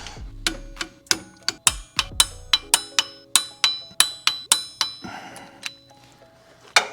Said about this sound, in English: And now we get to torque these bolts down to 55 foot-pounds.